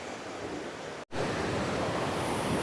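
River water rushes toward the Idukki reservoir in Kerala, a steady broadband roar with no voices, briefly cut off by a short gap partway through.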